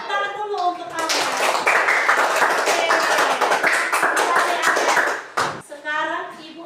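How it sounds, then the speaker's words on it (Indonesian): A class of pupils claps hands rapidly together for several seconds, loud and close, with voices speaking before and after the burst of applause. "Tepuk tangan dulu untuk Allah."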